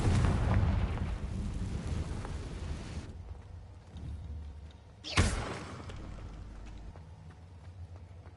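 The Confringo fire spell exploding in the video game Hogwarts Legacy, two heavy booming blasts, the first with a rumbling tail and the second a sharp crack fading into a low roll.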